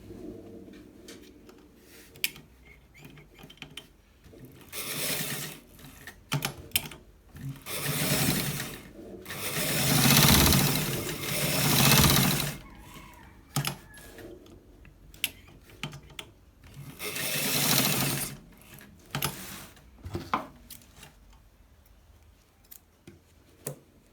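A sewing machine stitching a shawl collar, with several loud runs of rapid mechanical whirring separated by pauses filled with small clicks and handling noises, close up.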